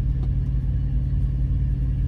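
A truck idles and accelerates in stop-and-go city traffic in Chicago, giving a steady, loud low engine rumble with slight pulsing throughout and no talk.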